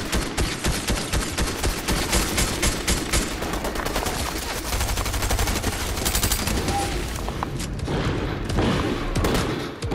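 Dense, loud video game gunfire from a spammer gun, rapid sustained bursts layered with booms and explosions that run almost continuously, with occasional voices faintly underneath.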